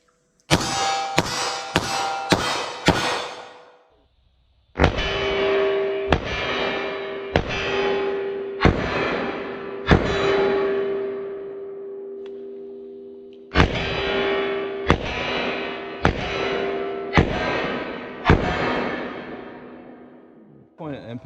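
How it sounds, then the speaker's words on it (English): Two volleys of 9mm revolver and semi-auto pistol shots with Winchester Ranger ONE ammunition at 12 yards: a fast string of five sharp, loud reports, a pause, then steady evenly spaced shots in two groups, each with a ringing tail. "let's try the revolver"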